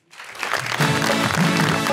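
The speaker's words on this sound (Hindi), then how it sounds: "आपकी भरपूर तालियों में बुलाना चाहूंगा" A television talk show studio audience breaks into loud, sustained applause that swells quickly and stays dense and even as a guest is welcomed onstage.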